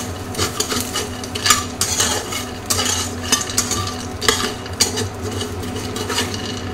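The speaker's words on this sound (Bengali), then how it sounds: "এবার আমি বড়িগুলো ভেজে নেব।" Bori lentil dumplings fry in oil left over from frying fish, with steady sizzling and repeated scraping and clinking of a spatula stirring in the pan, fairly close and without voices.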